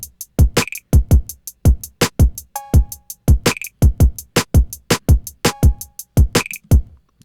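A programmed hip-hop drum loop drives along with punchy kicks, crisp snares, quick rattles and occasional cowbell hits in a tight repeating rhythm.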